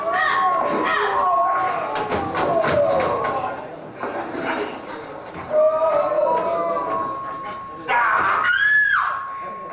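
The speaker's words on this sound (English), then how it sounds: "You screamed, sire?" Screams burst out among shouts and commotion in a Robin Hood scene, several loud, sustained cries and yells overlapping with bangs and a rising scream near the end.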